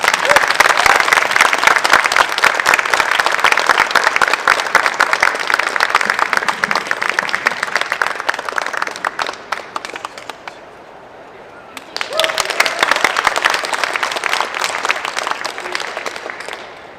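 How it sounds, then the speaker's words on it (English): A press conference audience at a Star Trek convention in Birmingham applauds Fred Hayes with loud, dense, continuous clapping. It drops to near quiet for about two seconds, then bursts back up and carries on strongly. "please give a massive round of applause to Fred Hayes"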